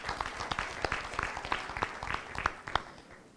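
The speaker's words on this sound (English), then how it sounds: "We clap for our presidents." A small audience claps for Thursday club presidents at a district fellowship gathering, with scattered uneven hand claps at close range that thin out toward the end.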